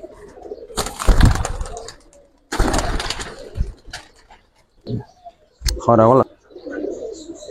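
Giribaz pigeons are let out of a loft, with bursts of wing flapping and brief bird calls between stretches of someone talking nearby.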